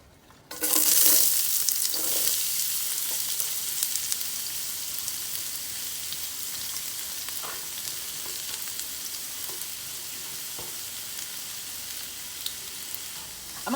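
A chopped Vidalia onion drops into hot olive oil and bursts into a loud sizzle, then settles into a steady, close frying hiss with occasional stirring scrapes.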